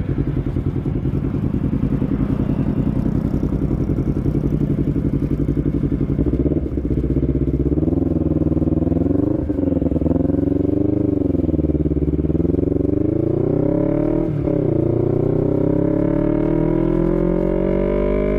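A motorcycle pulls away after a tire patch on a year-end touring trip, its engine loud and close, revving up and down through gear changes continuously.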